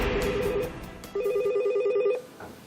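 A telephone rings at a Korean language helpline office, two bursts of an electronic trilling ring separated by a short pause, loud and close, with faint background noise.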